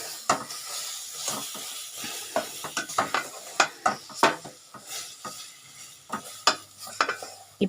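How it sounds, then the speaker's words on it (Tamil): Banana burfi mixture is stirred in a pan, a spoon scraping and knocking against the metal in repeated short bursts with a faint sizzle, close and alone without talk. "கிளறிக்கோங்க."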